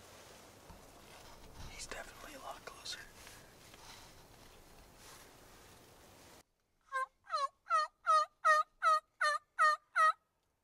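Wild turkey toms gobbling from the roost at dawn, a run of about eight loud, evenly spaced gobbles close by after several seconds of hushed whispering and rustling.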